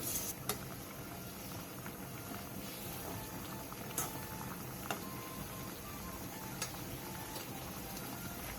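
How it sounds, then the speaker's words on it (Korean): Glass noodles boil in a pot of water with brown sugar and soy sauce, giving a steady, dense bubbling with occasional sharp ticks and pops. "끓는 물에 당면 한 줌 반과 흑설탕 1스푼, 진간장 1스푼을 넣고 7분간 삶아주세요."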